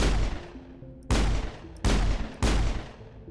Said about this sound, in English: Nobody's worried that I'm shooting.